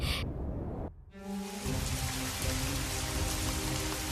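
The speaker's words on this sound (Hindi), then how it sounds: "अंधेरी रात में कड़कती बिजली के साथ जोरदार बारिश हो गई।" Heavy rain pours down through a dark night in a Hindi cartoon, a steady loud hiss of drops on surfaces with a brief lull near the start, no voices.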